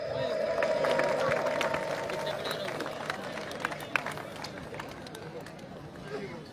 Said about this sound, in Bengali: এটা জোরে হাততালি।